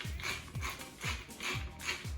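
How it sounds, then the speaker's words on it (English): A salt grinder is twisted over a tray of Greek-style oven chips, giving about five rhythmic crunching, ratcheting turns in quick succession, close and fairly quiet with no talk. "A good grinding of salt."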